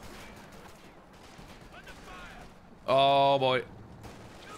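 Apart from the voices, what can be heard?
machine gun fire in Company of Heroes 2 video game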